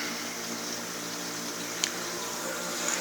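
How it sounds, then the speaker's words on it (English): Two E-Hive 1262 water pumps run in a homemade baffled sump under an aquarium tank, giving a steady, even hum and water hiss that holds constant throughout, with a faint click near the middle. "We're still running the two 1262 E-Hive pumps"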